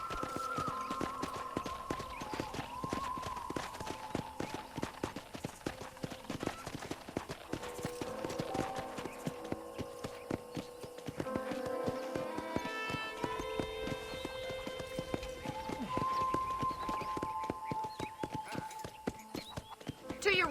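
A horse clip-clops on a ranch in Red Dead Redemption, its steady hoofbeats running throughout alongside an occasional whinny, with game dialogue spoken over the top.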